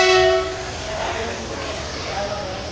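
A train at Rajkot railway station, with a loud horn blast at the start that fades into steady rumbling station noise and background voices.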